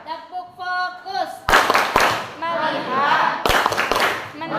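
A class of eighth-grade students claps sharp, loud bursts in a counted rhythm, alternating with a spoken chant led by a voice between the groups of claps.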